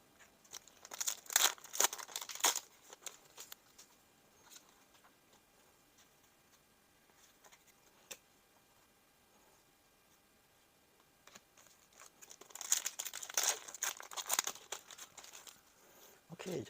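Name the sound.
Build Divide Madoka Magica booster packs being opened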